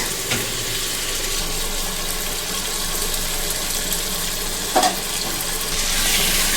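Tomatoes fry in a pan for an aloo pakoda curry, producing a constant close sizzle with occasional scraping stir sounds and a slight rise in hiss toward the end.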